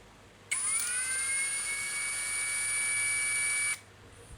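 A cordless drill motor runs on its low speed setting, giving one steady, close whine that starts abruptly, holds evenly for about three seconds and cuts off sharply.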